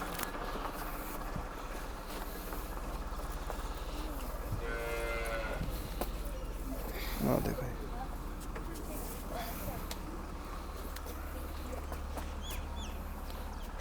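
A buffalo lows once in the middle, heard over steady background noise and distant farmyard chatter.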